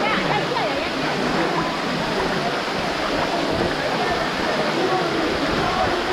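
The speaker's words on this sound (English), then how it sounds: "Let's go by the waterfall." Waterfall at a swimming spot on Maui, a steady, dense rush of falling water filling the whole stretch without break, loud and close.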